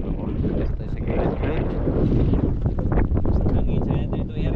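Strong wind buffets the microphone outdoors, apparently at the water's edge or on a boat while out fishing, producing a loud, continuous rumbling roar that fills the whole stretch without letup.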